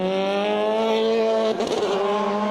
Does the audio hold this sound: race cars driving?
yes